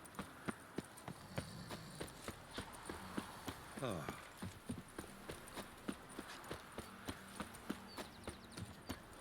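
Horse hooves clip-clop steadily at a trotting pace in The Witcher 3 Wild Hunt, a regular train of sharp hoof strikes running throughout, with game dialogue and speech over the top.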